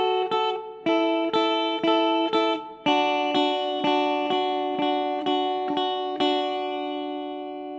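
A guitar plucks a riff on its first two strings, a bright, clear repeated pair of notes struck evenly about a dozen times, each ringing briefly before the next.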